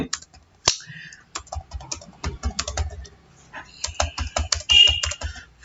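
Keys on a computer keyboard, including the Enter key, are pressed in a quick, uneven run of close, crisp clicks and taps while entering accounting data in Tally Prime.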